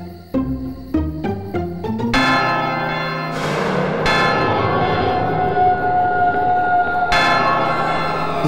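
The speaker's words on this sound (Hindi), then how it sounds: "ये स्कूल की घंटी इतने रात को क्यों बज रही है?" A few quick bell strikes, then a large school bell rings out at night with long, resonant tones that linger and overlap, struck again near the end.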